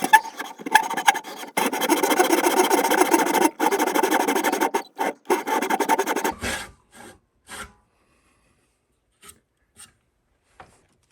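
A coping saw cuts through a wooden ukulele headstock in quick, rhythmic rasping strokes for about six seconds, then stops; a few faint scattered taps follow in near silence.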